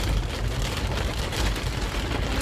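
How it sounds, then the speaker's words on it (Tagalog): Heavy rain pours down, a dense continuous hiss and patter with no break and no voices. "Lakas ng ulan."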